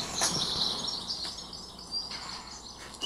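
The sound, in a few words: birds singing in a garden, field recording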